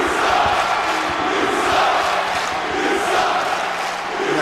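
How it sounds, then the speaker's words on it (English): A wrestling arena crowd in Minneapolis roars and jeers at a wrestler. The noise is loud and sustained, with swelling waves of booing and shouting from a large audience. "And the crowd here in Minneapolis letting him hear it."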